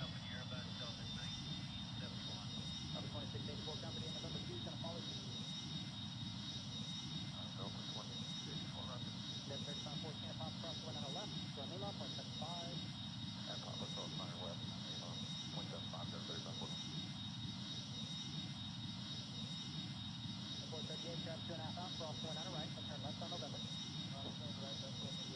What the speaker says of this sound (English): And here they apply the full throttle.